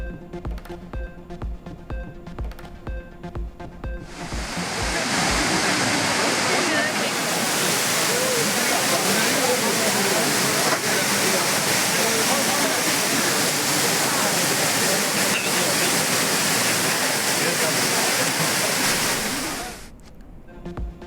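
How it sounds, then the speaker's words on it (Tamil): Loud, steady roar of the Courtallam waterfall in Tenkasi district, with tourists bathing beneath it, a dense rushing wash of falling water that holds constant for about fifteen seconds before cutting off. "தென்காசி மாவட்டம் குற்றால அருவியில் குவிந்த சுற்றுலா பயணிகள். அருவியில் ஆனந்த குளியலிட்டு சுற்றுலா பயணிகள் உற்சாகம்."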